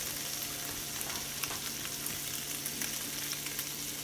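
Pancetta fries in a very hot pan for lasagna, a steady dense sizzle with scattered sharp pops throughout, close and loud with no talking over it.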